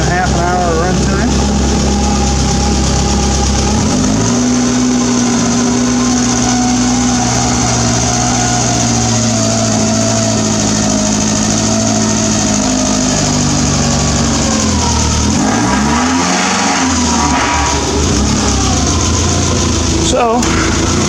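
W.A.R. Corsair replica aircraft engine running steadily for the whole stretch, loud and close with a sustained droning tone that dips briefly near the end; someone talks over it.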